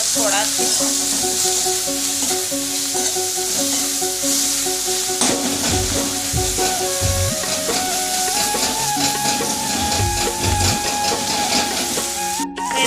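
Food frying hard on a high flame in a pan for a Chhattisgarhi salga bada curry, a loud, dense, unbroken sizzle up close with occasional stirring scrapes and faint steady tones underneath.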